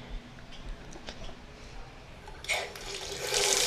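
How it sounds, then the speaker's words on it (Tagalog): A tap in a beach bungalow bathroom in Zambales is turned on halfway through, strong water gushing in loudly after a few soft clicks and handling noises. "Malakas ang tubig."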